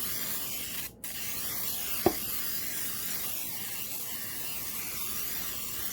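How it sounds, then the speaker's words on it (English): A pump-action kitchen spritzer mists oil onto a Pampered Chef Rockcrok grill stone, giving a steady close hiss with a short break near the start and a sharp click partway through. "So first I'm going to take our kitchen spritzer again. So again, you pump it."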